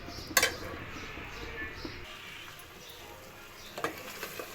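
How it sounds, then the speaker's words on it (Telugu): Pieces of fish frying in a pan and being gently stirred, with soft sizzling, a sharp metallic clink of a utensil against the pan near the start and a few lighter taps later, fairly quiet. "కొద్దిగా ఒక 2 నిమిషాల వరకు మంచి ఫ్రై చేసుకోవాలి."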